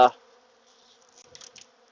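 Bees buzz faintly around an open hive during an autumn inspection, a thin steady drone with a few brief louder passes near the end, following a sharp knock at the start.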